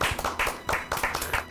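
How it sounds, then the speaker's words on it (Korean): An audience at a Korean talk on National Assembly history claps briefly, with distinct rhythmic hand claps in quick near succession over a short, close burst. "국회 이 활동에 대해서 우리 한 박수 한번."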